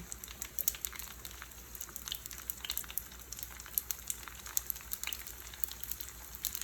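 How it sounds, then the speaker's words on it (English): Pot stickers pan-searing in hot oil, a steady faint sizzle with dense crackling pops, close and alone. "Not a deep fry, just gonna kind of pan sear them a little bit"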